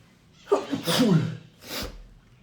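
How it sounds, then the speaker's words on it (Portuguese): A single loud human sneeze at close range, with a sharp intake of breath, the explosive burst, and a short trailing exhale. "tá vindo um espirro aqui"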